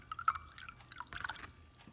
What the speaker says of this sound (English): We're going to add a little bit of water to these teeth